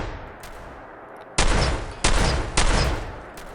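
Three loud, booming shotgun blasts go off in quick succession in the video game Fallout 4, each with a long rumbling tail, following a stretch of quieter in-game ambience.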